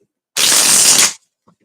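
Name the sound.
shuffling tarot cards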